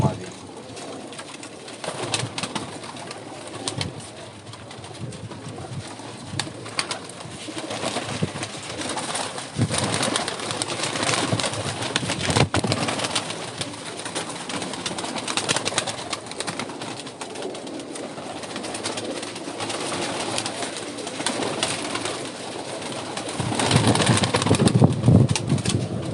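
Pigeons coo in a loft, a male and a female among them, with soft repeated throaty calls close by and occasional wing flutters, while someone talks over them at times.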